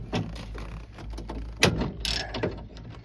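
A socket wrench ratchets in quiet bursts of clicking while tightening a bolt on a Honda Prelude door actuator. Small metallic clatters and a brief scrape come between the bursts, close and fairly soft.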